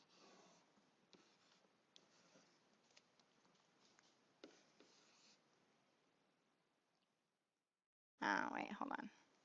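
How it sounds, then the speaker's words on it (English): Practice problems are written down by hand, with faint scratchy pen or pencil strokes on paper in short irregular bursts, then silence and a louder noisy burst at the end. "Let me write them down real quick."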